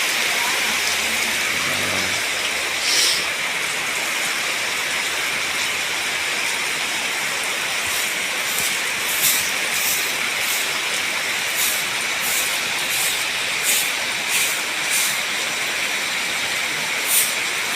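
Heavy rain splashing onto the ground makes a steady, dense hiss that carries on without a break, with faint ticking drops scattered through it.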